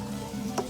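Eggs being stir-fried in a pan, a steady close sizzle with a brief scrape of the utensil near the end, no talking.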